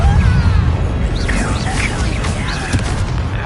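A Depulso spell in the video game Hogwarts Legacy lets out a loud booming blast that fades into rumbling magical effects and shimmering tones over a steady low roar.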